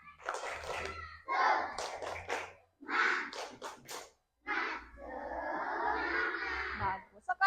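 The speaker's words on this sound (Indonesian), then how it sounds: "Coba tepuk semangat." A class of children chant a rhythmic spirit clap in a classroom, several short bursts of voices punctuated by sharp hand claps, then a longer sustained shout at the end.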